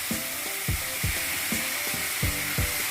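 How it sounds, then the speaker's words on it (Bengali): Ground coriander and cumin hit a hot pan, hissing in a loud, steady sizzle with rhythmic stirring scrapes repeating about twice a second, no voices. "এবার এর মধ্যে গুঁড়ো মশলাগুলো অ্যাড করে দেব ধনে গুঁড়ো, 1 চামচ মতো ধনে গুঁড়ো দিলাম"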